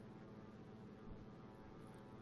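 Steady drone of a Thranda Beaver bush plane's propeller engine in the X-Plane 11 flight simulator, flying past Mount Rainier, a continuous even hum with no change in pitch.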